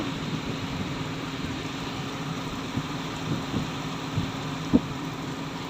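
Heavy afternoon rain with wind, a steady broadband hiss of falling rain with soft low rumbles and a few brief thuds and knocks scattered through it, no voices.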